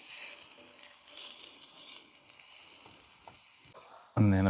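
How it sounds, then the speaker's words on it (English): Onions sizzle on a Blok Baby Q barbecue, a fine crackling hiss that rises at the start, settles into a steady fry, then ends with a brief loud thump near the close. "And we'll get a good sizzle on them."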